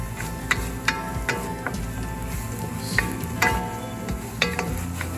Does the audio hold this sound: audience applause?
no